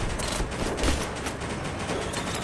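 Gunfire in the blocky online shooter BattleBit Remastered comes as a dense, steady crackle of shots and distant explosions, a continuous battlefield din without clear individual bursts.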